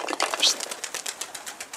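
Pigeons gathered at their feed make a brief burst of fast, rhythmic fluttering and cooing pulses close by.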